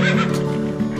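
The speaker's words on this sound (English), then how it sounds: "Red horse and the small horse" A horse neighs in a short, loud whinny with a wavering harmonic tone, heard close and alone.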